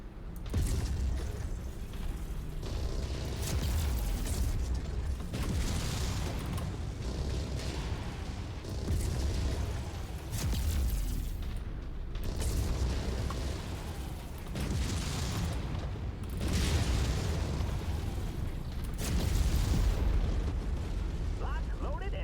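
Mech weapons fire and explosions in the MechWarrior 5 video game during a high-difficulty modded career battle, a dense, continuous barrage of booms and bursts with a voice speaking over the din.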